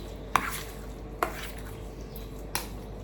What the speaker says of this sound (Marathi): हे असं कालवते.